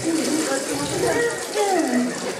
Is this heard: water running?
yes